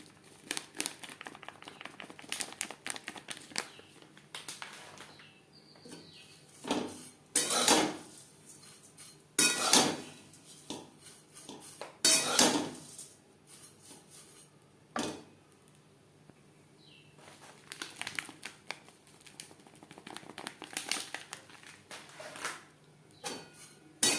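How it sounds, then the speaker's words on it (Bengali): A spoon scrapes and clinks against a pot while lachha semai is stirred and powdered milk is added, giving repeated metallic knocks and scraping bursts, fairly close and with no talk. "এইভাবে নাড়তে থাকবো আর গুঁড়ো দুধ অ্যাড করতে থাকবো"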